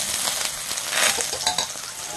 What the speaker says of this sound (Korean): 식용유 두 스푼 넣고 이걸 한번 볶아줄게요